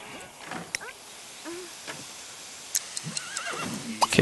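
Horse in The Sims 3 life-simulation game gives a short whinny, with faint hoof clip-clops and scattered ticking game sounds around it.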